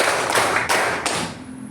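A classroom of students claps three times in a clapping game, three sharp, close bursts at an even pace that ring out and then fade.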